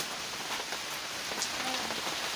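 Steady rain falling on a surface outdoors, a dense, even patter that continues without pause at moderate loudness.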